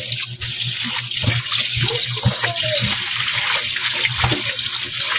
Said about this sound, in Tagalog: Ayan, tapos hugasan na natin.